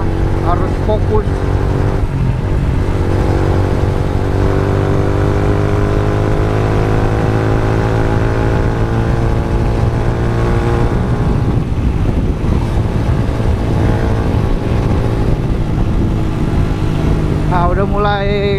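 A Yamaha Vixion motorcycle rides along a road, its steady mid-pitched engine drone running close and continuous, with a rider talking over it throughout.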